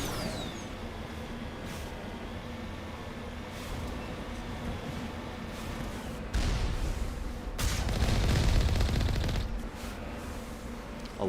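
Turrets of the Alliance firing in the Mass Effect video game, a steady stream of rapid gunfire under a droning background, swelling into louder, denser bursts near the end.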